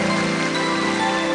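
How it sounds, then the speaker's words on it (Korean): A concert audience claps together in dense, steady applause, loud and continuous throughout with no gaps, filling a large hall. "같이 박수 쳐주세요"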